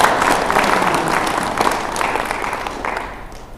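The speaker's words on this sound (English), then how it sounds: "I would like you all to join me in applauding them" Applause from an audience at a conference hall, a steady dense clatter of many hands clapping that holds throughout and slowly thins toward the end, with no talking over it.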